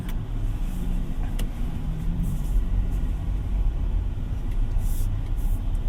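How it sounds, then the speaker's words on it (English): A 2024 Kia Sonet 1.5 SX accelerates smoothly, heard from inside the cabin as a steady low rumble of engine and road noise, moderately loud and continuous, with no talking. "when you press on the accelerator gradually, it just delivers power"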